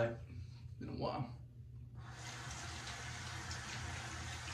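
Tap water runs steadily and close by for wetting a face before a wet shave, a continuous gushing flow that starts after a brief murmur of voice and carries on alone to the end.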